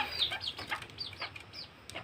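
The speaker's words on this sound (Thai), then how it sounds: "นี่คือ ไก่ตุ้ม ไก่ลูกผสม" A hybrid chicken clucks several times in quick, uneven bursts, close and fairly quiet, with no talking.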